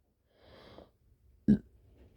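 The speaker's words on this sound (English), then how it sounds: "Sorry, that was my burp." A single short, loud burp-like burst stands out after a stretch of soft breathy noise, then quiet.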